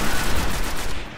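A loud, close sniper rifle blast in the First Light video game, its dense, noisy report filling the brief moment with no speech over it.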